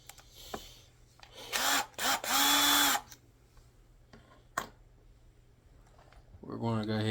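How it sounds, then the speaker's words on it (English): Power drill enlarging holes in a Mitchell MS100 guitar body, loud whirring bursts of a few seconds each, with a short burst later and quiet gaps between. "We're going to go ahead and drill these holes out while we're at it, and make them a little bit bigger."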